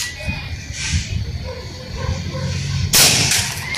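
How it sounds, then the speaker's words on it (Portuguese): A weak air rifle fires one sharp, loud shot near the end, with a crisp crack and a short hiss after it, heard up close over background noise and faint voices. "Vamos dar mais um disparo."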